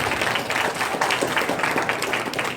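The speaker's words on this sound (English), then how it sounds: "Give yourselves a round of applause." Audience at an evening event applauding, a dense, steady patter of many hands clapping at close range with no speech over it, filling the whole short stretch.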